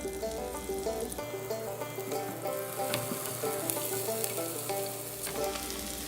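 Garlic frying in one tablespoon of melted margarine for pork fried rice, giving a steady, close sizzle that holds its level throughout with a continuous crackling hiss, alone with no talk.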